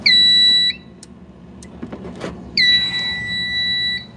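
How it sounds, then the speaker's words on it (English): A loud, shrill fire alarm blares in two long electronic tones separated by a short quiet gap with faint clicks and shuffling. "The alarms are wired up."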